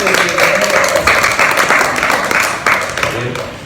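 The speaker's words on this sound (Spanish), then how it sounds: "Un aplauso para don Javier." Audience applause breaks out after a game-show host on a Spanish live comedy and philosophy stage show calls for it, steady dense clapping filling the room for several seconds with a few louder bursts.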